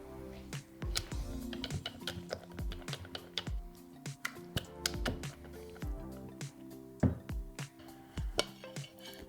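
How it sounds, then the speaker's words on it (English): Quick, irregular clicking and scraping of a whisk in a bowl of crumpet batter, fairly quiet and continuous, with occasional louder taps. "And we're going to give this a nice whisk."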